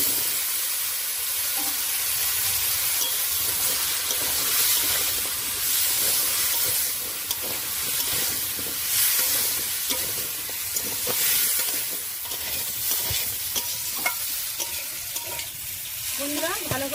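Papaya pieces stir-fried in a hot pan for a papaya shrimp curry give a continuous loud sizzle and hiss, with spatula scrapes and stirring knocks throughout.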